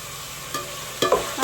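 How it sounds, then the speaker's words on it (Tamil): Food sautéing in plenty of oil sizzles steadily while a few sharp scrapes and knocks of a stirring spoon cut in near the end, close and brief. "வதக்க நல்லா வதக்கு"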